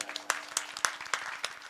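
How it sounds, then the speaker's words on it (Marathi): Sparse, fairly faint clapping from a small audience at a kirtan during a Harinam week gathering, with a few distinct claps spaced out rhythmically rather than a full ovation. "त्यांच्याकरताही एकदा टाळ्या वाजवा."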